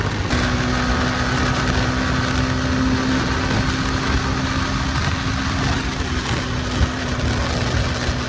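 Motorbike engine hums steadily while riding on a road, a loud continuous drone with a constant low tone and wind rush, no pauses.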